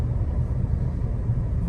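A 2025 Chevy Colorado ZR2 Bison pickup truck on the road gives a steady low cabin rumble of engine and tires, smooth and even, heard from inside.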